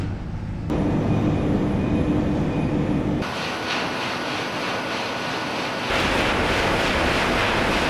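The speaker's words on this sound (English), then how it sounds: "we're inside the main boiler house on the incinerator area, and this is a very noisy environment" A loud, steady industrial roar fills a biomass plant's incinerator boiler house, a dense rushing rumble of heavy machinery that shifts character slightly but never lets up.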